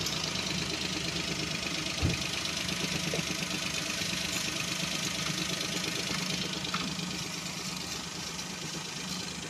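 An engine runs at a steady idle just after starting, with a continuous low rumble and a faint knocking texture throughout, loud and close, with no talk.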